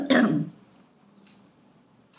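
A single loud, close cough and throat clearing at the start, then quiet with a faint breathy sound near the end.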